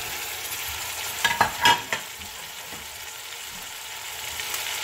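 Chopped tomatoes fry in a pan with ginger and garlic for chicken biryani, a steady low sizzle with a few short stirring scrapes near the middle, no talking.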